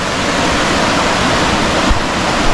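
Fast-flowing water rushes steadily along a stream in Jamaica, a loud, dense, continuous roar with no pauses or voices.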